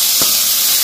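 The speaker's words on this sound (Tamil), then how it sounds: "வெங்காயம் வந்து நல்லா வதங்கிட்டுது" Onions sautéing in a pan give off a short, steady sizzling hiss, close and fairly loud, with no talking.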